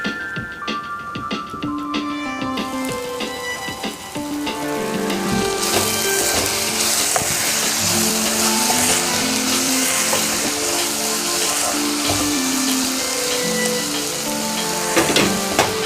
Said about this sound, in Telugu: ఇలా ఉడికిందండి మన కర్రీ.